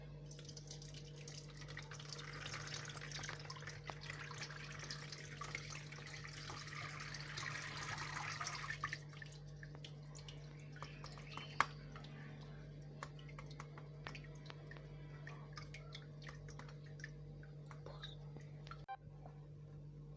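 Milk poured through a single sieve, a soft, steady trickle for about nine seconds over a constant low hum, then a quieter stretch of light handling noises.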